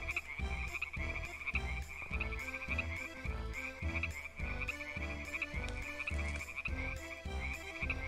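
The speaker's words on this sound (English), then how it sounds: "Now my balloon is full of croaking frogs." In the game Deiland, a balloon swarming with frogs gives off a loud, steady chorus of deep croaks pulsing in a regular rhythm, layered over a sustained high-pitched drone with no talking.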